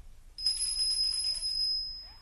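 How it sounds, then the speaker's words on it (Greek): A bright doorbell at a house entrance rings once with a sustained, shimmering tone that slowly fades, loud and close against a quiet room. "Βάδισε ως την είσοδο του σπιτιού και χτύπησε το κουδούνι."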